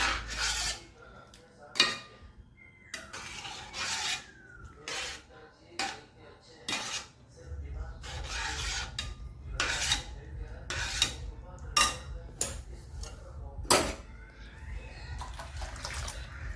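Carrot halwa being stirred in a pan at home, a spoon scraping and rasping against the metal in repeated uneven strokes, close and fairly loud, with a low steady hum underneath and no talking.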